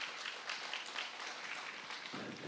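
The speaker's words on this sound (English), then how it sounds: "give him a big round of applause." A seated audience at a state legislature Q&A claps for a state representative, with the clapping soft and somewhat distant. The applause holds a fairly even level throughout and no one speaks over it.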